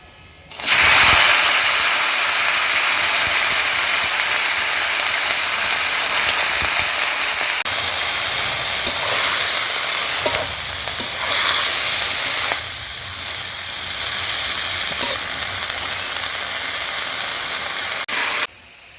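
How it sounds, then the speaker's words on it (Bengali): Greens dropped into hot oil tempered with radhuni spice, sizzling and frying loudly and steadily for most of the stretch, with clattering of stirring, alone without talk. "এবার আমি রাঁধুনি ফোড়নেতে শাকগুলো দিয়ে দেবো।"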